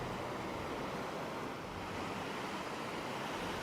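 Surf rolls steadily onto a wide sandy beach at Khao Lak, Thailand, a continuous broad wash of breaking waves with some wind buffeting the microphone and no voices.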